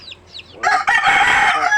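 A rooster crows loudly and close, a long strained call following a few faint chirps at the start.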